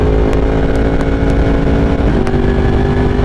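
A 193 hp sport motorcycle cruising, its engine a steady, loud drone with a brief dip in pitch partway through, mixed with constant wind noise and no talking.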